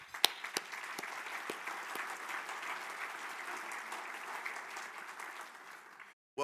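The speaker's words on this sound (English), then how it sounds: "give yourself a round of applause" Audience applause at a 2018 State of the Cities event, a steady wash of many hands clapping with a few sharper claps up front, holding for about six seconds before cutting off abruptly.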